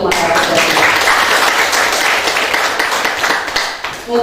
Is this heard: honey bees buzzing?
no